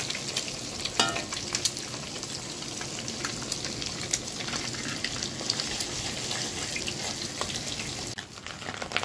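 Eggs fry in oil in a pan for egg tadka, a continuous close sizzle and crackle broken by scraping stir sounds and a few clinks, with no voices.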